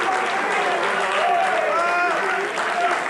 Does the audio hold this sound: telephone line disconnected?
no